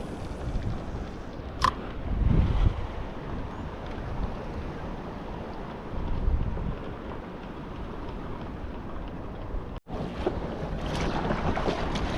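Kayak paddling on the sea off Pangkor Island, with steady wind and water noise, a couple of louder splashing strokes near the start and midway, and a brief dropout before the wash returns.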